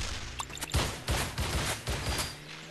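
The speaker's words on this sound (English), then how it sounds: "Rear cannon." A rear cannon fires in the Crash of Cars video game in a rapid string of loud, punchy blasts, spaced roughly evenly, over dense game noise.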